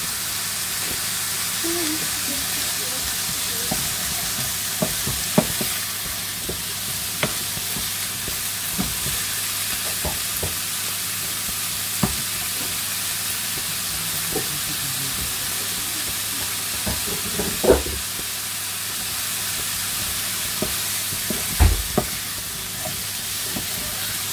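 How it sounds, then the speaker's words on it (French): A knob of butter melting in a pan for homemade three-meat hachis parmentier, a steady close hiss and sizzle that runs throughout, with scattered faint crackles and occasional louder pops. "On met une noisette de beurre."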